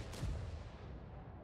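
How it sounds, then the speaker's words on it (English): A tank cannon fires in a tank battle video game, a single heavy boom near the start that rolls off into a long low rumble, with no talk over it. "E-4 takes a big shot from Yuri."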